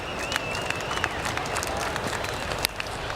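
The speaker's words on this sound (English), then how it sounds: "Now they're applauding the Pakistani achievement as well" Cricket crowd applauding at a one-day international final between Australia and Pakistan, a steady, dense wash of clapping with occasional louder claps and a faint whistle, sustained and fairly loud throughout.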